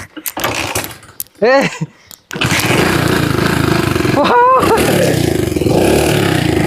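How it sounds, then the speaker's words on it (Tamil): A restored scrap motorcycle's engine cranks and catches, then settles into a steady, loud idle with a brief rev in the middle, close by. "இப்போ நம்ம வண்டியை ஸ்டார்ட் பண்ணி வண்டி ஸ்டார்ட் ஆகுது அப்படிங்கிறத பார்த்துருவோம்"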